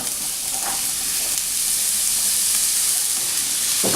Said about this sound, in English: Once you get that sizzle on there, we can go ahead and add our mushrooms